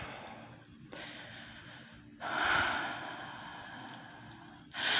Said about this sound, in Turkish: derin bir nefes aldım